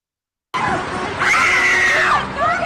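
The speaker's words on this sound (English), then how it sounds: "Listen to the people screaming." A crowd of people screaming loudly and continuously, with one shrill voice rising above the roar for about a second, starting abruptly after silence.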